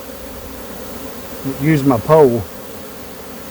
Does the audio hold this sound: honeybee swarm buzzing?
yes